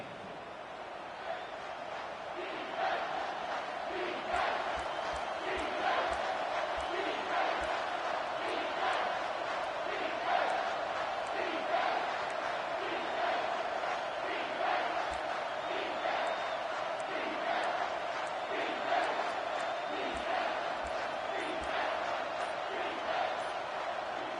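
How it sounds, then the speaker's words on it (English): A home crowd in a Madden football video game roars continuously with rising, chanting swells on a third down, dense and steady throughout. "Here comes this home crowd as the defense tries to get off the field on 3rd down."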